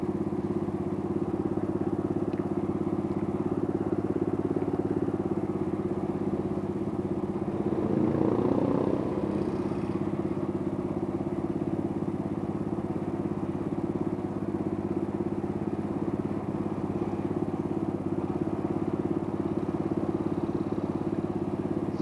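A big motorcycle engine rumbles steadily while riding in traffic among trucks, a loud continuous low drone with a brief swell near the middle.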